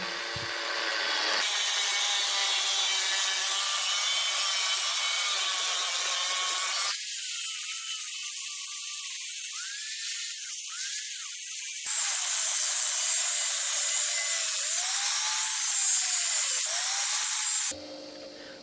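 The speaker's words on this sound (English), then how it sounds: "I use my angle grinder with a cut-off disc to cut out the rough shape of my parang" An angle grinder with a cut-off disc cuts the rough shape of a parang out of a sawblade clamped over a wooden plank, a loud, steady, high-pitched metallic whine that shifts in pitch between passes for about seventeen seconds.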